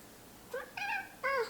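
A cat meows three times in quick succession, faint and fairly close, with quiet room tone between calls and no talking.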